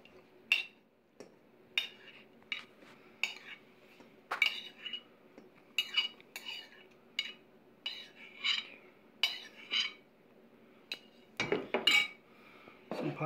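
A metal slotted spoon clinks repeatedly against a dish while scooping pineapple chicken for the air fryer, with sharp, irregular taps spaced about a second apart and a cluster of clatter near the end.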